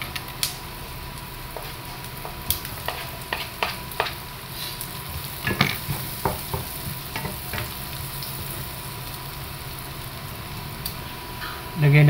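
Garlic sautéing in a pan for a Filipino vegetable stir-fry, a steady close sizzle and frying hiss with scattered stirring clicks and scrapes throughout.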